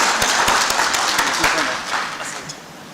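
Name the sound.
conference audience applause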